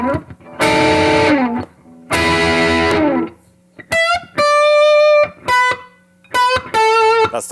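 An electric guitar with added gain plays an outro lick, with sustained, slightly distorted phrases and bends alternating with short gaps, loud and close with no talking.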